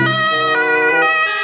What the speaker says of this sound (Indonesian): yang ini ada mobil ambulans